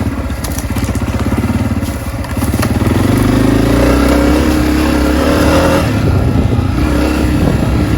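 A 2022 Honda CRF250F dirt bike rides a trail, its engine loud and close with a rapid buzzing rattle that swells as it revs and pulls harder, over continuous rough riding noise.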